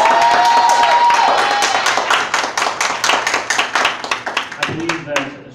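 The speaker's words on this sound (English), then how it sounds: "round of applause for Franchessca." A theatre audience at a showcase performance applauds a performer: dense, loud clapping that gradually thins into scattered individual claps, with a voice briefly heard near the end.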